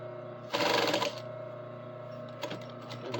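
A sewing machine back-stitches a costume seam, firing one loud, fast run of stitches near the microphone, then a steady motor hum with a few short ticks as the needle moves again.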